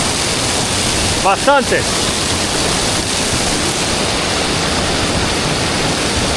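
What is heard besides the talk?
lots of water cascading down a stairway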